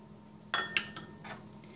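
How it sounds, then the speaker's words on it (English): A utensil clinks against a bowl a few times while flour, cocoa, baking soda and salt are stirred together for chocolate cookies, producing light, quick taps over a quiet background. "in a medium to large size bowl, we're going to stir together the flour, the cocoa, the baking soda,"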